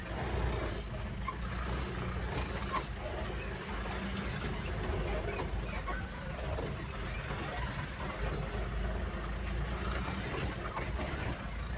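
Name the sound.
loaded trucks passing on a damaged road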